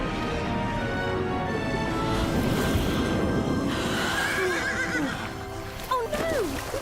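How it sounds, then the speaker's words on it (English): A horse whinnies loudly and at length, with a rising and falling neigh near the end, while hooves clip-clop beneath and a voice briefly speaks over it. "Oh no! We brought the horse too!"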